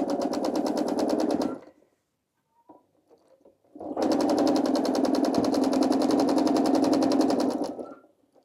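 A domestic sewing machine quilts a large blanket with a fast, steady needle chatter. It runs in two bursts separated by a short pause filled with faint handling noises, and is close and loud throughout.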